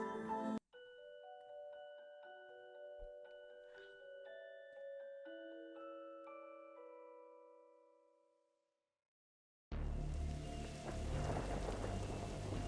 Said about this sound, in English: He must have seen the strange storm gathering over it.